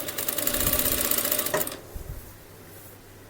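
A sewing machine stitches a kid's frock with a rapid, close mechanical rattle for about a second and a half, then stops, leaving a few soft clicks and quiet room tone.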